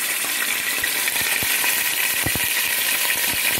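Chicken pieces frying in hot oil in a pot, a constant close crackle and sizzle with scattered sharp pops and small clinks throughout.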